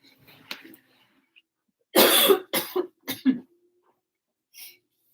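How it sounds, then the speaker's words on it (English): A burst of harsh coughing, four or five loud hacks in quick succession, followed by a short throat clear; quiet before and after. "I don't cough on a regular basis"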